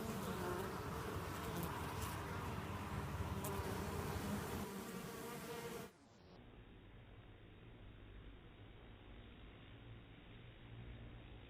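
Honey bees at a beehive make a dense, steady buzzing hum from many insects close by, which drops to a quieter, more muffled drone partway through.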